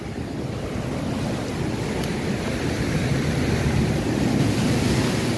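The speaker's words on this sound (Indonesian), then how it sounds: "Ombaknya terlalu tinggi, jadi kita nggak bisa main-main." High ocean surf at a beach in Gunungkidul, Yogyakarta, a continuous loud roar of breaking waves mixed with wind buffeting the microphone, with no talking.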